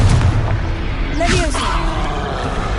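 Confringo spell blasting in a video game fight against a troll, a short booming burst rising out of busy game noise and music.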